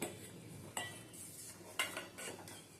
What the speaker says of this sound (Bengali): গুঁড়ো দুধটা দিয়েও আবার ভালো করে মিশিয়ে নিতে হবে যেন গুঁড়ো দুধটা দলা না পেকে যায়